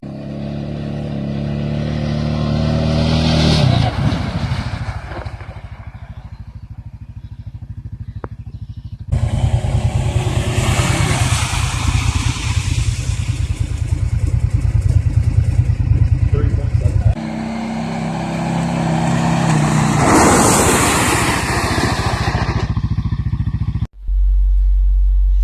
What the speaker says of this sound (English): I will drive my four-wheeler at a set speed, slam the rear brake, and lock up the rear tire